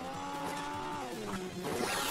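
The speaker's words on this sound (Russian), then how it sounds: "хороший двигатель" A tank fitted with a new engine in Hill Climb Racing 2 revs with a whining, rising and falling engine tone, loud and close, with tire-like squeals mixed in.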